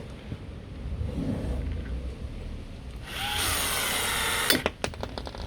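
A Milwaukee M12 cordless rivet gun pulls a 4.8 mm rivet, a short motor whine followed by a sharp snap and a few clicks, close and fairly quiet.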